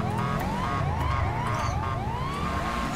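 Wailing police car siren from the game GTA 5, a loud continuous rising-and-falling sweep that carries through the whole stretch over a low engine rumble, with no talking.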